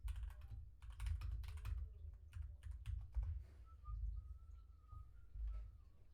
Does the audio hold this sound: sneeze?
no